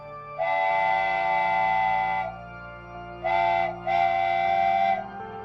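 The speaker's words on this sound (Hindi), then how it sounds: "बनियाल रेलवे स्टेशन से हम पकड़ते कश्मीर की आइकॉनिक लोकल ट्रेन" A Kashmir local train leaving Banihal station in deep winter sounds its whistle three times: a long blast of about two seconds, a short toot, then another blast just over a second long. The tone is loud, clear and steady.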